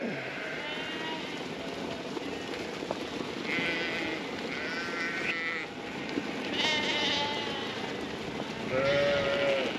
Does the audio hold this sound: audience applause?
no